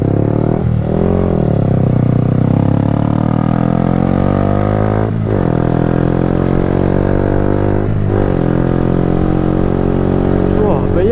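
A 2019 Yamaha YZF-R125 motorcycle engine drones loud and steady while being ridden, its pitch climbing and then dropping sharply at a few gear changes, heard close with constant rumble.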